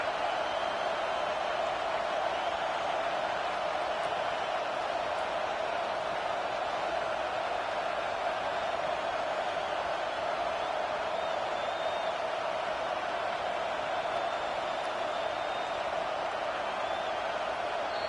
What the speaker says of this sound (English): Huge moment coming here as they try to quiet this raucous, crazy crowd.